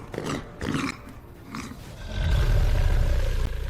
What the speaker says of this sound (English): With a terrifying roar, he lunged into the frozen crowd